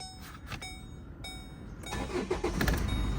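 A 2013 Chevrolet four-door with automatic transmission, factory-raised, cranks and starts up, followed by a steady running engine that grows louder and fuller toward the end, with no talk.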